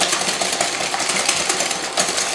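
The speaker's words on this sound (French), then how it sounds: "Il suffit juste de fouetter assez énergiquement." A whisk beaten energetically by hand in a bowl, a dense rapid scraping and clattering rhythm, close and loud, steady throughout with no speech.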